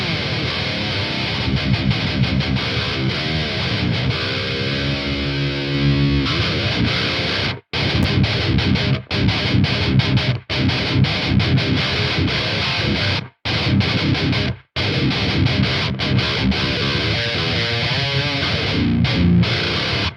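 Heavy distorted electric guitar chugs through a WaveMind amp simulator in tight palm-muted rhythmic bursts, loud and continuous, with a few abrupt stops between riffs.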